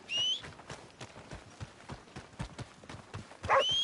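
Horse hooves clip-clopping in Red Dead Redemption 2, a steady run of hoofbeats at a trotting rhythm, with short whinnies at the start and near the end.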